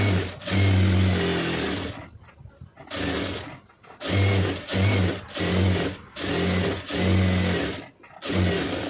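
A sewing machine stitches around the edge of a net blouse in repeated loud bursts of whirring, each run roughly a second long and separated by brief pauses.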